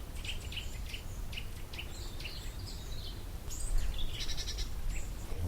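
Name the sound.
nuthatch calling in a mixed woodland flock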